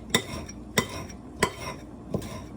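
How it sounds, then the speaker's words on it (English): A knife slices topping onto stuffed shells in a home kitchen, four crisp metallic taps against a plate or board at an even, unhurried rhythm, close and fairly quiet. "Just kind of slice a little bit."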